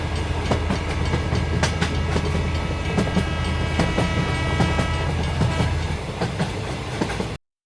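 A train runs on iron rails with a steady loud rolling rumble and rhythmic clickety-clack of wheels over rail joints, continuous and close, before cutting off abruptly at the end.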